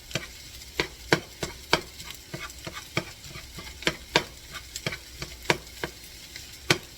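Egg and fried rice sizzle on a hibachi griddle while a metal spatula strikes the hot surface in quick, uneven clacks, a steady frying hiss underneath and no voices.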